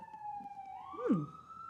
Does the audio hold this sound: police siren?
yes